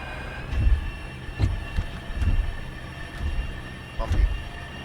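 A Bell P-59 jet in War Thunder rolls down the runway for takeoff, its engine a steady drone under repeated low thumps from the bumpy ground, with faint talking over it.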